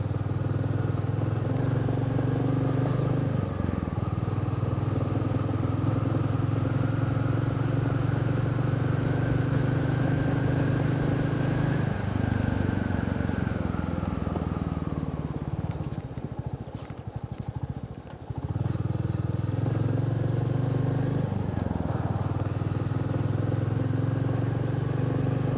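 A Royal Enfield Meteor motorcycle rides along a rough rural road, its engine droning steadily with shifting pitch as speed rises and falls, plus a brief dip and bumpy rattle midway.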